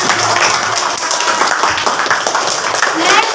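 A classroom of schoolchildren clap their hands together in a loud, close, continuous burst of uneven claps, with voices mixed in.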